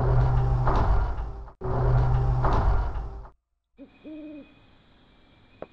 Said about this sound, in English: Obviously, the owls are still just fine.